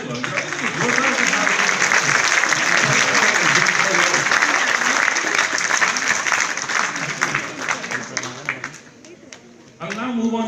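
Sustained audience applause fills a forum hall, loud and dense for about nine seconds before thinning out, after which a speaker's voice resumes.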